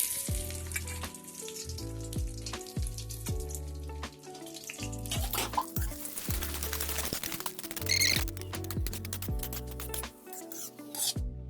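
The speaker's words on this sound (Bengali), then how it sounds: "কাজু বাদাম আর কিশমিশ গুলি ভেজে নেব। দিয়ে দিলাম কাজু বাদাম," Cashew nuts fry in hot ghee in a pan on a gas stove, a steady hissing sizzle with occasional scraping stirs, heard over music playing in the background.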